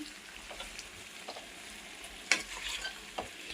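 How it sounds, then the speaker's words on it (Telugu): Brinjal sizzling in a pan with garlic chili powder and curry leaves, a steady close frying hiss with a few sharp crackles and stirring scrapes. "ఇలా అంతా వెల్లుల్లి కారం అంతా యాడ్ చేసుకున్నాక మరొక 5 minutes అది పచ్చివాసన వెళ్ళే వరకు రోస్ట్ చేసుకోండి"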